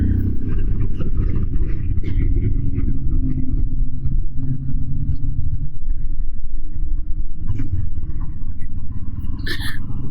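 Royal Enfield Himalayan single-cylinder motorcycle fitted with a Delkevic exhaust, heard on board while riding out on the road, a loud continuous low engine rumble with pulsing exhaust throb and wind buffeting.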